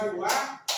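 Children clap together in a counted classroom pattern, two crisp group claps separated by a short pause, close and fairly loud.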